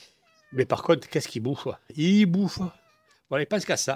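A friendly street cat gives a drawn-out meow between stretches of someone talking in French nearby.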